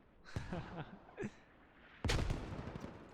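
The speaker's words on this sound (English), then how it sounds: "more grenades are being used" Grenade blasts in the Squad military shooter, several sharp booms scattered over a few seconds, the last and loudest landing near and followed by rumbling debris.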